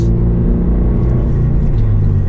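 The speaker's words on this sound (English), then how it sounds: "this exhaust is so loud and nice" A Subaru BRZ / Toyota GR86 with a loud aftermarket Remark exhaust drones steadily at close range, a deep, constant rumble with no break.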